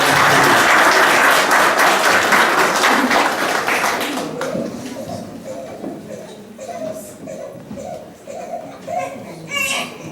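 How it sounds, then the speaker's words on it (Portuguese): A congregation applauding at a baptism in church, a loud burst of many people clapping that fades after a few seconds, leaving scattered voices and a child's babble in the quieter room. "Vou dar uma salva de palmas pelo batismo."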